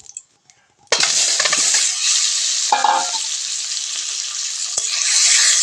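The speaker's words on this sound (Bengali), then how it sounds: "ডিমগুলো ভালো করে ভেজে নেব" Eggs hit hot mustard oil in a wok with an abrupt, loud frying sizzle that holds steady, broken by a few clinks of a utensil stirring against the metal.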